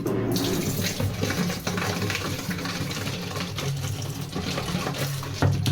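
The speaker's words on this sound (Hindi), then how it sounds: "चलो पानी की बोतल भरते हैं अम्मी के आर ओ से।" Water running steadily from a home RO water purifier tap as a bottle is filled, a continuous close splashing stream with faint household noise.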